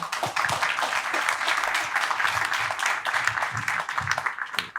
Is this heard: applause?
yes